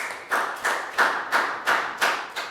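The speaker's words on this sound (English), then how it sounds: "a big round of applause for Pak Bung" Rhythmic, evenly spaced claps for a student in a Year 3 English lesson, about eight firm beats in a steady pattern that sounds like a small group clapping in time.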